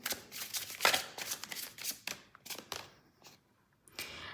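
A deck of tarot cards being shuffled during a card reading, with a run of soft riffling and slapping card sounds that come in bursts, close and fairly quiet, then thin out toward the end.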